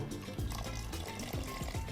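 Water is poured into chicken curry simmering in a clay pot, a short, soft gurgling trickle with bubbling splashes lasting a couple of seconds.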